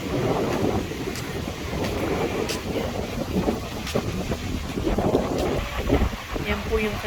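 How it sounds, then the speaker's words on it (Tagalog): Strong wind buffets the microphone beside a lake in Sylvan Lake, with waves churning, as loud continuous rumbling gusts run throughout. Faint voices may be mixed in. "kita nyo po kung gaano kalakas ang hangin"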